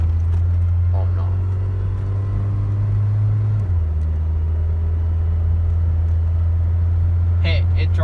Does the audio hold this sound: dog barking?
no